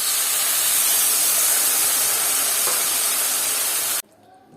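Water poured into a frying prawn curry sets off a loud, steady, close sizzling hiss that holds for about four seconds and then stops abruptly, leaving faint quiet bubbling.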